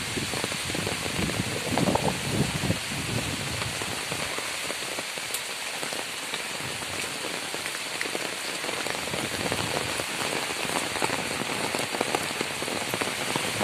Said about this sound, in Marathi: पाऊस खूप लागतात